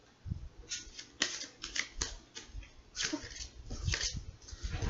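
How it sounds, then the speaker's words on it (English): Large tarot cards are shuffled in a series of sharp, dry riffling bursts and taps, quiet and close, with uneven rhythm and no talk. "One more shuffle."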